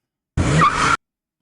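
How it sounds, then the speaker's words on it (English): A car peels off in a short, loud tire skid sound effect, a single screeching burst lasting about half a second, close and isolated with no other sound. "Car peels off."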